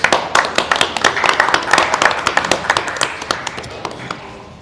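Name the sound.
applause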